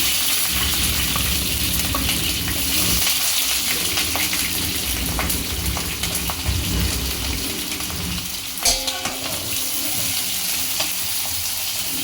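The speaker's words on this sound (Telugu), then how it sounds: "మా సుదర్శన్ పొటాటో ఫ్రై చేస్తున్నాడు" Potatoes fry in a pan with a dense, continuous sizzle and occasional stirring scrapes, close and steady, with a brief sharper clatter near the end.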